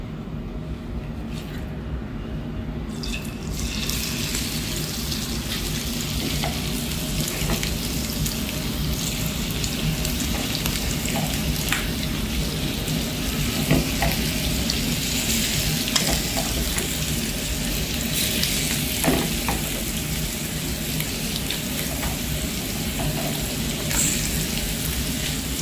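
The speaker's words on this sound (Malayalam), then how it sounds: "ഇപ്പം നമ്മളുടെ എണ്ണ ചൂടായി തുടങ്ങിയിട്ടുണ്ട് കേട്ടോ. അപ്പം നമുക്ക് ഈ പ്രോൺസ് ഇതിനകത്തേക്ക് ഇടാം." Prawns for a Kerala-style prawn biryani sizzle in hot oil, a dense, steady hiss with faint crackles that runs unbroken and fairly loud throughout, with no voices.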